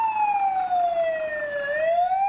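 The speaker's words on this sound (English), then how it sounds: "Just let's cut that siren and keep shooting, please." An emergency siren wails during a film shoot, a loud steady tone sliding slowly down and then rising again, heard alone with no talk.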